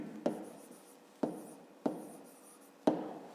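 A pen scratches a math equation onto paper for a fifth-grade exercise, four quick, close scribbling strokes with brief gaps between them, quiet and alone.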